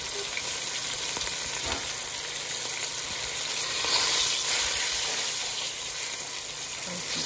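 Osso buco meat browning in a hot pan, a steady, dense sizzle close by with faint spatter and occasional stirring, no voices.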